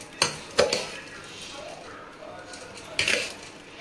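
A spoon scraping and clanking against a metal cooking pot while munta masala is mixed, with three sharp knocks set among quieter stirring and scraping.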